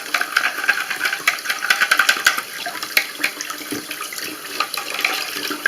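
Tap water runs over drain parts being rinsed in a bathroom sink, a steady splashing stream with scattered clinks and knocks of the parts, moderately close, with no talking.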